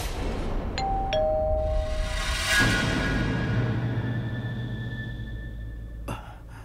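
A doorbell rings in a drama scene, two quick ding tones followed by a sustained ringing tone over a dense background of music and ambience, with a faint later click.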